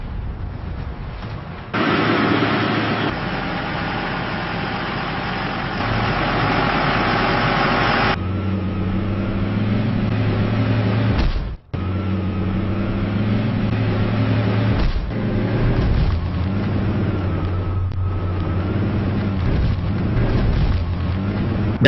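AMPV armored military vehicles run their engines in a steady, loud, close mechanical drone with a low rumbling hum that continues almost unbroken, apart from one brief dip partway through.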